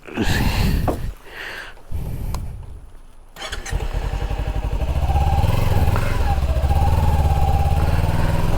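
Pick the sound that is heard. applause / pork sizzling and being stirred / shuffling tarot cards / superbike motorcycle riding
superbike motorcycle riding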